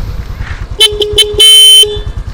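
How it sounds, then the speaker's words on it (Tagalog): A car horn honks in a few short beeps, then one longer blast, loud and close, with engine rumble underneath. "Ganito pa rin ba yung busina mo?"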